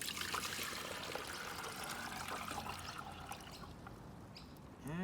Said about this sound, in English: Fill it with fresh clean water again.